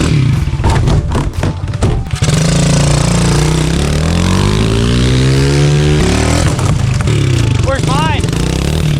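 Fully built Honda CRF110 pit bike with a 147cc big bore kit revving loudly up close, engine pitch climbing and falling in sweeping runs, with thumps and voices talking over it near the start.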